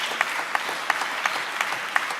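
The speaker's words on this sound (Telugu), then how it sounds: "చప్పట్లు కొడితే యేసయ్యకు స్తోత్రాలు." A church congregation claps in the middle distance, mostly as a dense wash of applause, with sharper accents about every third of a second. It is fairly quiet and no one speaks.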